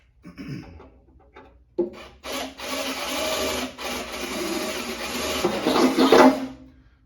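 A drill with a new bit grinds into thin sheet metal of a Honda CR-V tailgate in a sustained, rasping whine, starting and stopping briefly before biting through close up.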